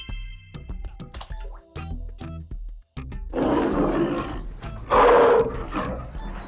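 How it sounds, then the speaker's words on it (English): A tiger roars loudly and up close, a rough, breathy growl that swells to a peak, following a stretch of bright plinking, dripping sounds. "Tiger."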